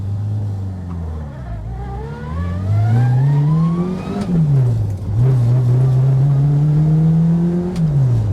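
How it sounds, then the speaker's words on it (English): A Fiat 600 with a straight-cut first gear accelerates, its small engine revving up and down while a pronounced rising gear whine rides on top, loud and close from inside the car, with no talk. "Now, I think that first gear is actually straight cut. It's got a whine to it."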